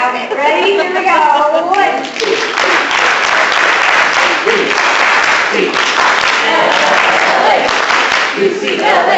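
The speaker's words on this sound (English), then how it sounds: "everyone got to put their hands in the air, and we're going to give an 8 clap" Large audience at a UCLA-themed talk doing the rhythmic UCLA eight clap, dense loud clapping and cheering from a crowd with voices shouting along throughout.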